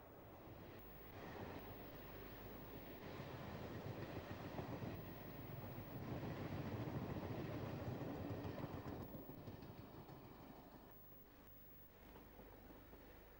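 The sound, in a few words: train passing on singled line between Moreton and Dorchester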